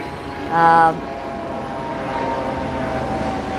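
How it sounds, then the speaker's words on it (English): A helicopter flies overhead, its distant rumble swelling steadily after a short tonal call early on, with no one talking. "It's a helicopter."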